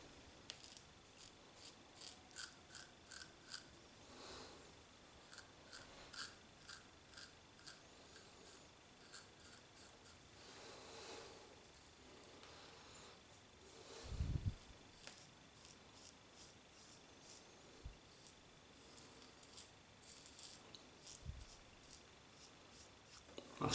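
Merkur Vision double-edge razor cutting facial hair, a faint dry scraping in a steady run of short strokes, close up and quiet, with occasional louder knocks.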